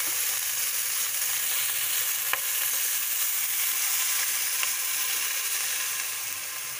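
Chicken feet adobo cooking in a pan with soy sauce, a dense, even hiss of sizzling liquid held steady throughout, with a couple of faint clicks, close and alone.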